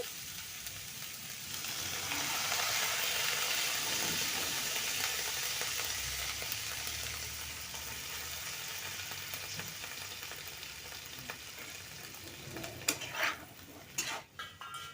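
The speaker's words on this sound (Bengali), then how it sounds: "আমি সামান্য একটু জল অ্যাড করছি" A little water poured over half-ripe apple pieces cooking in a pan for apple pickle, giving a broad, steady sizzle that slowly fades, followed by a few clinks of a utensil against the pan.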